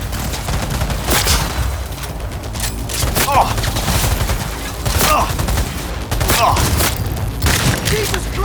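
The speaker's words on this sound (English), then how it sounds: "I'm taking fire!" Cyberpunk 2077 gunfight with dense, loud bursts of gunfire and booming impacts continuing throughout, a voice speaking over the shooting.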